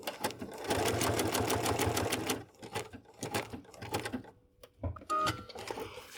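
A sewing machine stitches wool appliqué in close, steady bursts of rapid needle strokes, pausing briefly between runs and restarting, with no talking.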